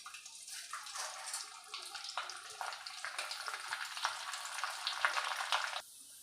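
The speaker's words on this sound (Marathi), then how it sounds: "मी अजून तुम्हाला 1-2 पापड चकल्या पण तळून दाखवते" Sago and potato chakli frying in hot oil, a bright crackling bubble that rises and swells over several seconds and then cuts off abruptly.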